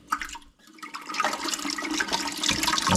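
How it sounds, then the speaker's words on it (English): Water rushes and gurgles as it flushes debris out of a toilet fill valve into a container, a loud, continuous turbulent splashing that builds over several seconds with no talking. "I'm going to turn the water on slowly"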